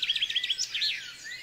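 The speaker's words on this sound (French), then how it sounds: "Commençons par la plus malicieuse, la mésange noire." Coal tit singing, a quick run of high, thin, repeated chirping notes close by, followed by a few sliding whistled notes, alone without talk.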